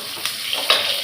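Onions and chillies sizzle and crackle in a hot pan of oil, a brief, close burst of frying with small spatters and stirring scrapes.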